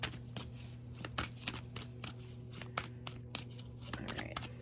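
Chakra oracle cards being shuffled by hand, quiet papery riffles and slaps in an irregular rhythm over a low steady hum.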